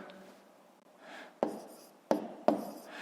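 Pen strokes writing numbers on paper for a long division problem, a soft scratchy rustle with three sharper taps, close and alone.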